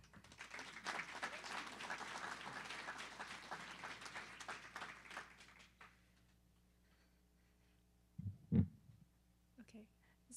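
Audience applause welcoming a speaker at a university scholarship event, moderate clapping for several seconds that fades to near silence, followed by a couple of brief close thumps.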